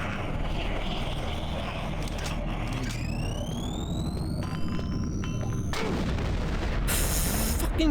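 Grenade explosions and combat in DOOM 3 BFG Edition, a dense continuous rumble of booms with sharp blasts and rising electronic tones near the end.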